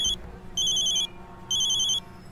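An electronic phone ringtone trills in two short bursts with pauses between, clear and close, with no one speaking.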